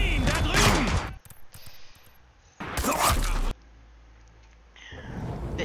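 Loud bursts of gunfire from the stealth shooter game Splinter Cell Blacklist come in two separate volleys with quieter game ambience between them.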